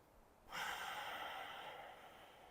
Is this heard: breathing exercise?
yes